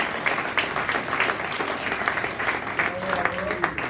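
A church congregation gives the Lord a round of applause, rhythmic clapping in steady pulses. It is moderately loud and continuous, with a faint tone rising near the end.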